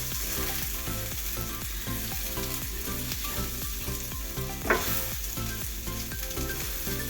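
Roasted potatoes and cauliflower for aloo gobi are stirred in a pan on a stovetop, making a loud, continuous sizzle with soft scraping. One sharper knock sounds partway through.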